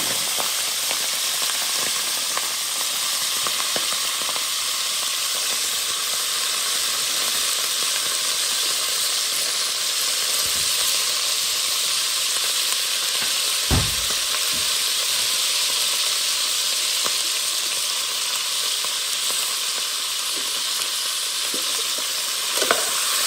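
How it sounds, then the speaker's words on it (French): Sausages fry in hot oil inside a cooking pot, giving a steady, dense sizzle and hiss that runs throughout without pause, with one brief knock partway through. "Je tourne les saucisses dans la marmite pour que ça frie un peu partout."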